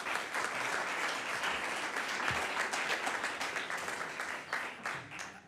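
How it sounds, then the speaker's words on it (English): Audience applause rises at a small-town planning commission meeting, a steady, dense wash of clapping from a room of attendees that holds at an even level for several seconds without pause. "There will be no clapping, cheering, etc."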